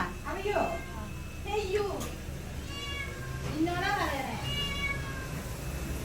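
A cat meows several times in short, rising and falling calls spaced a second or two apart, close and clear over low background noise.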